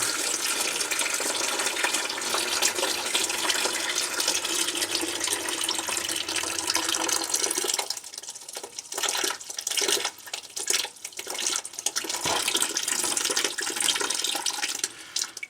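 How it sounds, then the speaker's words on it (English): Water drains out of house plumbing being winterized, a steady loud rushing gush for several seconds that turns into a sputtering, gurgling flow with air bursts. "Drain the water out of this."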